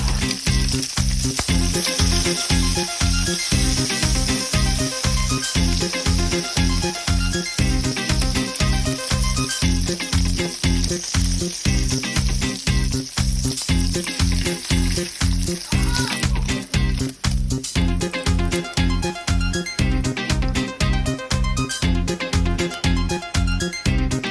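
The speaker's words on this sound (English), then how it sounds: "So now I'm just cooking up some bacon" Bacon frying in a pan, a loud continuous sizzle with crackling throughout, underscored by a repeating rhythmic beat that runs steadily for the whole stretch.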